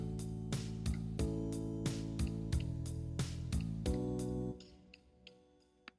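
Notation-software playback of a bass line stepping through roots, fifths and an octave, about eight evenly spaced plucked low notes with sustained accompaniment, then a softer, sparser tail.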